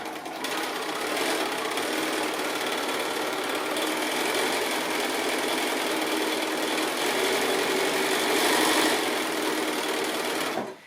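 A sewing machine stitches a quilt block made from 2 1/2 inch strips along a drawn line, giving a continuous fast, close mechanical whir that holds steady for about ten seconds before stopping.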